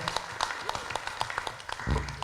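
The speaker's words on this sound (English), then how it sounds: "Please give big applause to our presenter from Malaysia" An audience applauds a presenter at a customs conference session, scattered claps of moderate density and distance, fairly faint, with a slight rise in noise near the end.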